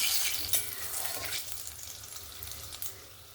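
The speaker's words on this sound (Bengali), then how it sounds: "প্রথমে তেলের মধ্যে ফোড়নটাকে ভালো করে একটু ভেজে নেব" Whole spices (cloves, cinnamon, cardamom, star anise and mace) fry in hot oil with a steady, close crackling sizzle, broken by a few brief stirring scrapes.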